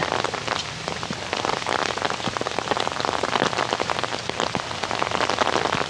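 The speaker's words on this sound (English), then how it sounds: "the rain's starting to come back down again" Steady rain falling on a hard surface at a campground, dense patter of drops continuing throughout, fairly close and even in loudness.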